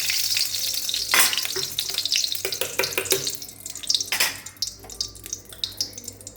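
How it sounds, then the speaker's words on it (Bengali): A ground spice paste hits hot mustard oil in a wok-style pan, bursting into a loud, close sizzle that stays busy and crackling, with stirring scrapes and shifting spatters as it fries. "তেলটা গরম হয়ে গেছে পেস্টটা দিলাম তো ঢেলে"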